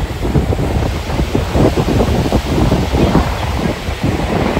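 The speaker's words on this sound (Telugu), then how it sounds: "అప్పటికంటే ఎక్కువ అలలు వస్తున్నాయి ఇప్పుడు, చాలా దూరంగా" Sea waves rolling onto a Vizag beach, a continuous loud wash of surf mixed with buffeting wind on the microphone and no voices.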